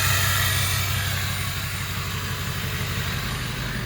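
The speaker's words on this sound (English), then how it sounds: "4-inch turbo back exhaust, sounds great. It's a 4-inch straight pipe," A Ford F250 Powerstroke diesel truck with a 4-inch turbo-back straight pipe and no muffler idles steadily, a loud, close, low rumbling drone with no talk over it.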